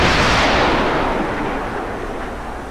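Submarine missile launch in the Cold Waters naval combat game: a loud, broad roaring blast that starts hard and slowly tapers over a few seconds, with no voices.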